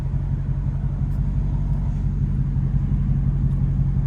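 Deep, steady engine rumble from a Dodge Hellcat pulling out of a parking spot in a downtown street at night, a constant low drone heard close from inside the car.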